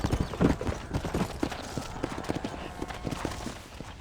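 Horse hooves clop in a steady galloping rhythm in the Red Dead Redemption video game, close and fairly loud, with a rumbling background.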